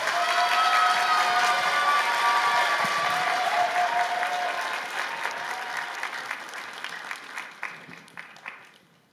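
Teenage audience at a 2019 church youth retreat applauding and cheering to welcome a pastor, loud sustained clapping with whoops that gradually thins out into scattered claps.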